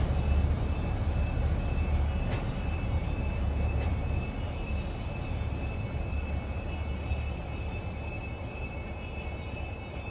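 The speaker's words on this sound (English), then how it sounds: "Time to bring the locomotive to a gentle stop." Rumbling locomotive rolling to a gentle stop in a train simulator game, a continuous low drone with a faint high brake whine, steady and even, no voices.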